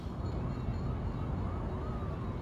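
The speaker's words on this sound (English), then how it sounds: "Better go, I hear sirens." Police sirens in The Warriors video game wail faintly in the distance, rising and falling under a steady background hum, with no talk.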